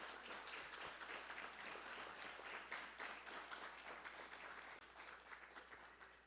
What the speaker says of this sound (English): So a round of applause for everyone who made this event happen